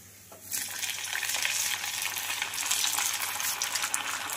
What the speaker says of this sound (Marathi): तर अशा प्रकारे आपल्याला सगळ्या बाट्या तळून घ्यायच्या आहेत